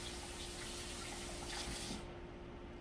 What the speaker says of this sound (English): I'll wash my hands again.